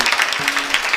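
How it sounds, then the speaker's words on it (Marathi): Audience at a devotional kirtan performance clapping together, a dense steady burst of hand claps lasting about a second, fairly loud and continuous without speech. "जोरदार टाळ्या वाजवा त्यांच्यासाठी"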